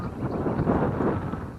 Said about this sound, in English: Sorry about the wind today.